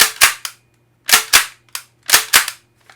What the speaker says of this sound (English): So here's the racking of the .68 caliber